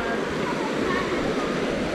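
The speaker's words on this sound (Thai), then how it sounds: "ตรงนี้มันก็จะเป็นแบบมาจากน้ำตกนะครับน้ำตกก็จะไหลลงมาเรื่อย" Water from a waterfall at Chae Son National Park in Lampang pours in a steady, broadband rush, continuous and moderately loud throughout.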